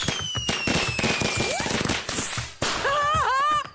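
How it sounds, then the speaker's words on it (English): Fireworks crack and pop in a radio drama comedy sound effect, a sharp burst of snapping bangs followed by whistling, screeching rockets rising and wavering near the end, loud and close. "It was full of fireworks."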